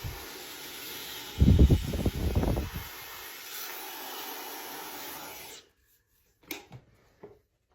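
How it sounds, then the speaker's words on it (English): A handheld blow dryer runs steadily on day-two hair styled with Color Wow Raise The Root spray, a sustained airy hiss that cuts off abruptly near the end, with brief handling rustles after. "we're gonna hit this with the blow dryer"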